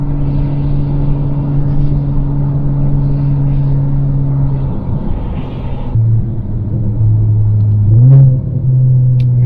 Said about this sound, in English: Downshifts and throttle blips are just, they're amazing in this.